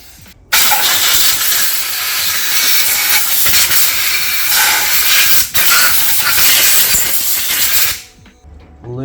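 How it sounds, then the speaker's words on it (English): Brake cleaner hisses out of an aerosol can in one long, loud, steady spray onto car parts during a CV6 Monaro build, with a brief break near the middle and an abrupt stop near the end. "Time to give this thing a bit of a brake clean, get all the schmutz out"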